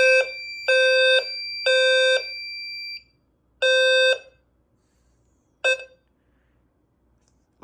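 A Notifier fire alarm system in alarm blares loud, close electronic horn tones: three blasts with short gaps, then a pause, one more blast, and a final short burst before it falls silent.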